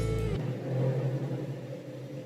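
A motorcycle passes by outside, heard from indoors as a sustained low engine rumble that swells slightly and then holds, with no one speaking.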